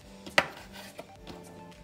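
A knife chops seafood legs on a cutting board, with one sharp loud thunk and a few softer taps, close and quiet, with no talk.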